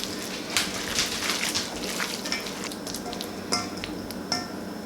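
Ground pork filling for gyoza is worked by hand in a bowl, giving soft wet squishing and slapping with a few sharper clicks, close and fairly quiet, with no talk.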